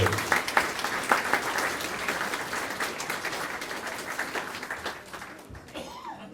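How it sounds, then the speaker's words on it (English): A crowd at a 2008 Tingha Tigers football club presentation night claps steadily in a dense, sustained round of applause that gradually thins and fades out, with faint voices mixed in. "Big round of applause."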